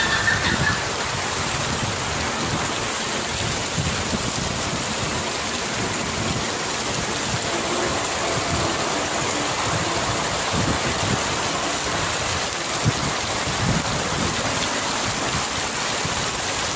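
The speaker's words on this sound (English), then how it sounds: "So it's raining." Steady rain falls during the rainy season in Hargeisa, a dense, continuous hiss of drops with a soft patter on surfaces, even and unbroken throughout, with no voices.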